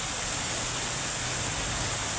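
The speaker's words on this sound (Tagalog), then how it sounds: "Sobrang lakas ng ulan dito." Heavy rain pours steadily on an outdoor court, a dense, constant hiss of falling water with no pauses and no voices, close and fairly loud throughout.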